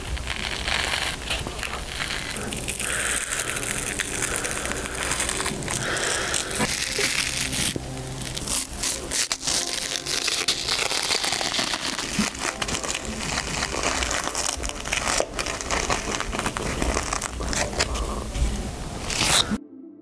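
A dried face mask is peeled slowly off skin, making close, continuous crinkly tearing and scraping with small crackles throughout and no talking.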